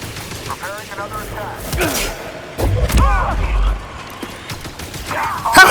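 Blaster shots in the Star Wars Jedi: Fallen Order video game fire in a quick, loud volley of sharp, punchy bursts during combat, with a short swell of layered impacts near the end.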